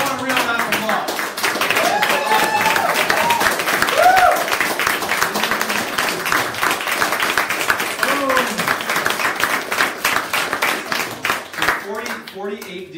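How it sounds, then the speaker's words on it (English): A room of real estate agents at a team training session claps steadily throughout, a dense patter of hands with a voice speaking over the applause at times. "Now I want a real round of applause."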